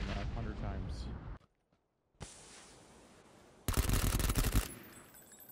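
Gunshots in the battle royale game PUBG, with a dense roaring burst of rapid fire and other loud bursts separated by brief silent gaps, with a person talking over it.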